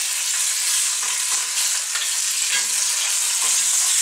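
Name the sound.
turning chicken meat sizzling in pan for coq au vin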